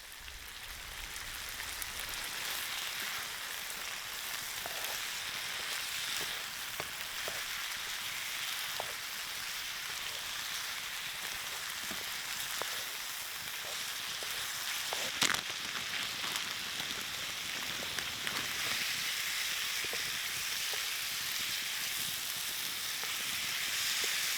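Onion and peppers sizzle in hot pepper sauce and oil over a camp stove on a solo tarp camping trip, a steady soft crackling hiss running throughout with occasional louder pops.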